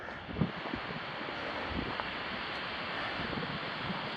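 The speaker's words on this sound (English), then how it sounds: "This gap right here where the wind is blowing through." Strong wind roars steadily through a mountain gap, a constant broadband rush buffeting the microphone with a few small gusts and bumps.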